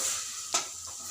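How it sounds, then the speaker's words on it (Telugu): Prawns fry over a medium flame and are stirred in a pan, giving a quiet, close sizzle with one brief scrape of the spatula partway through. "రొయ్యల్ని వేయించుకోండి."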